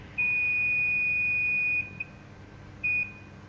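A multimeter's continuity buzzer gives a long steady high-pitched tone, stops, then sounds again briefly as probes test a negative circuit path.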